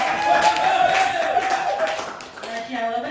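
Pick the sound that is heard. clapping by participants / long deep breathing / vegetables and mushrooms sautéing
clapping by participants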